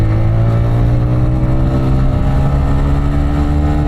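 A TVS Raider 125 motorcycle engine revs hard in power mode toward 9500 rpm, a loud close buzzing whine that climbs and sustains without any talking.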